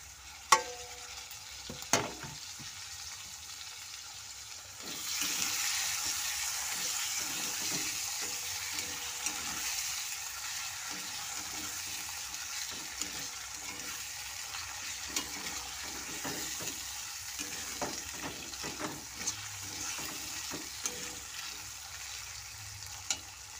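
Tomato drops into a hot pan of chickpea ghugni and a loud, steady sizzle of frying rises, with scraping spoon strokes stirring throughout at close range.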